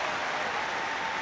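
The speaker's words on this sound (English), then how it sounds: "Rapturous applause from all in Stamford Bridge as the two sets of players take the knee ahead of kick-off" Applause from the crowd at Stamford Bridge before a Chelsea v Liverpool football kick-off, a dense steady wash of clapping that holds evenly throughout the brief moment with no voices standing out.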